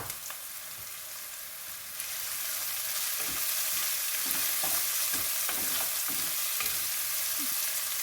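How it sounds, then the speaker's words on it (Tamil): Chopped onion sautés with Himalayan salt in a pan: a quieter hiss swells into a fuller sizzle after a couple of seconds, then repeated scraping stir strokes sound close by, without speech. "ஒரு பெரிய வெங்காயம் கட் பண்ணி போட்டு இதற்கு தேவையான உப்பையும் போட்டு வதக்கினா"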